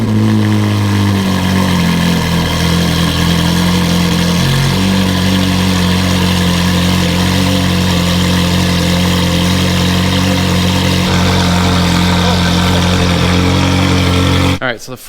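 A Ferrari 488 engine with an exhaust leak runs steadily at a loud, close idle, holding a droning tone for about fourteen seconds with a slight shift early on, then cutting off abruptly at the end.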